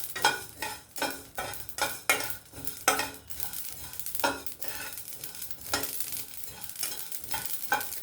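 Garlic cloves frying in oil and being stirred in a pan, with repeated bursts of scraping and sizzle at an irregular rhythm, close and fairly loud, with no talking.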